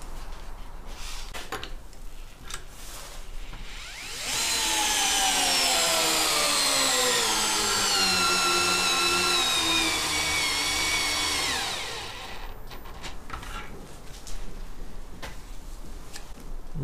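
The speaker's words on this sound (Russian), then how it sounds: "Крутить мы будем глухари на 10, длина 200" A Bosch cordless drill drives a 10 mm lag screw, 200 mm long, into pre-drilled holes. Its loud, steady motor whine lasts about eight seconds, the pitch sagging under load, then cuts off, with quiet background on either side.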